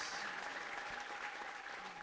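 A church congregation claps together in a dense, steady patter of many hands, heard from a little distance over a low hum.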